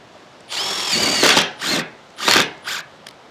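A power drill drives screws into the timber framing of a solar lumber kiln. It comes in four short, loud bursts, with brief pauses between them.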